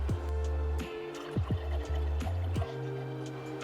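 Water poured into a glass of ground coffee for cold brew, a gurgling fill with a rising pitch, close and fairly quiet, with several glugging bursts as the stream continues.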